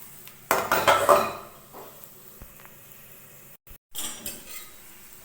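A lid set down over a pan of an oats breakfast dish gives a short metallic clatter and clink early on, followed by a soft, quiet hiss under the cover, with a brief cut and more faint rattling near the end.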